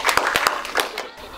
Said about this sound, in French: Alors on applaudit Alexa